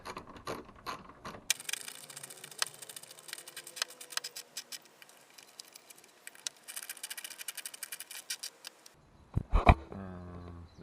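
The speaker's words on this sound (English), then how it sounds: "So let's get these back in. And then just screw them up nice and steady." Bolts on a Nissan GT-R R35 being screwed back in with a ratchet, rapid close clicking in long runs with brief pauses, ending with a few sharper metallic knocks and rattles.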